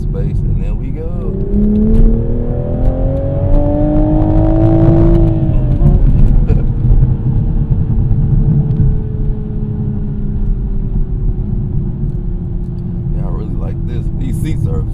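A Toyota GR Supra accelerates through its gears on the road, its engine note rising and then dropping at an upshift before settling into a steady cruising drone, loud and close from inside the car.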